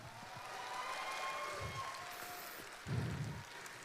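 An audience at a Korean navy concert gives faint, distant applause that sounds like a soft patter, with a low murmur swelling briefly near the end.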